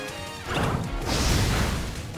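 The move Schianto hits in Pokémon Scarlet, a heavy crashing impact with a rushing burst that swells after a short lead-in and holds until the end, heard alone.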